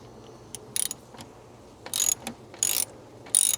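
A ratchet wrench loosening a car battery cable clamp, heard as several short bursts of close, sharp clicking separated by brief pauses.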